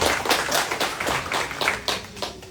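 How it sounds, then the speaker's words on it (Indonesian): Audience applause for a woman named Indah at an evening talk event, a steady patter of hand claps of moderate loudness lasting throughout, with no speech over it. "kasih tepuk tangan dong buat Mbak Indah ya Bu."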